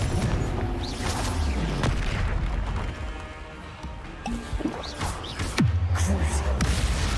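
A Confringo blasting spell explodes in a Harry Potter video game, with booming blasts and crackling effects under a dense wash of game sound, and a voice talking over it.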